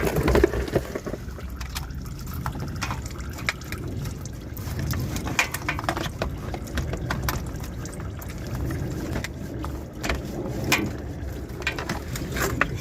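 Engine oil drains from a 2013 Nissan Altima 2.5 S into a pan as a steady trickling pour, with scattered clicks and small knocks on top, continuous and close with no talking.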